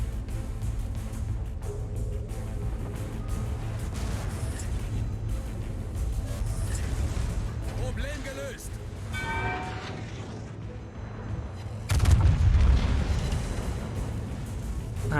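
Heavy naval shells from the battleship Grosser Kurfürst in World of Warships strike and ricochet off a ship amid constant low battle rumble, with ringing metallic pings and a louder impact boom near the end.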